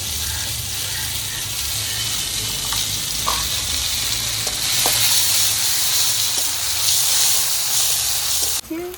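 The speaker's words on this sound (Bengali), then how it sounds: "তেলের পরে দিয়ে দিচ্ছি জিরে ফোড়ন, দিয়ে দিচ্ছি জিরে ও ধনে বাটা, লঙ্কা বাটা," Cumin seeds with cumin-coriander paste and chili paste frying in hot oil for a tangra fish curry: a loud, continuous close sizzle that swells midway, with a few faint clicks of stirring.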